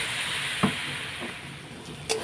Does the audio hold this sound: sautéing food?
yes